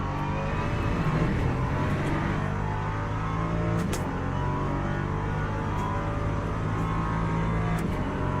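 Prototype LMP2 race car engine in Le Mans Ultimate, a loud steady high-pitched drone held close as the driver lifts off the throttle, with brief clicks and no talk.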